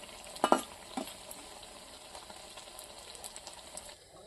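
Vegetable chops fry in hot oil with a soft, faint bubbling sizzle, broken early on by a few sharp clinks and stirring knocks before settling into a quiet, even crackle.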